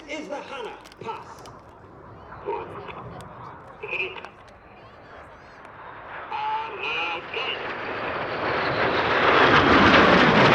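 Red Arrows jets fly a close formation pass at an air display, their engine roar swelling from faint to loud over the final seconds while a commentator talks over the approach.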